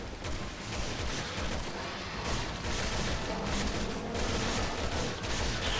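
Dense, continuous gunfire from the video game Resident Evil 6, with rapid overlapping shots and heavy booms layered into a loud, unbroken barrage.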